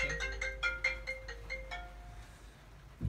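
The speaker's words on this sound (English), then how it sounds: "our phone's ringing" An office telephone rings in a quick electronic pattern of repeated bursts that stop after about two seconds, leaving a short hum and quiet room tone.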